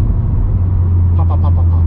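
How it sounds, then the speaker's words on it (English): A Stage 1 tuned VW Golf R idles with a steady low exhaust rumble, then a short run of four or five crackling burbles pops out near the end with the transmission in sport mode. "Sounded like burbles when I put transmission in sport"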